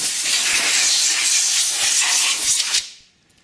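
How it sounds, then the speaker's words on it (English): A compressed-air line blasts a loud, steady hiss over Aprilia RSV 1000 Mille sprag clutch parts for close to three seconds, then cuts off abruptly. "if you've got a airline, just give it a good blow out"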